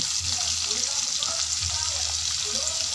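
Chicken intestines (isaw) fry in hot oil with a steady hissing sizzle close by, faint popping, and a voice speaking softly over the cooking.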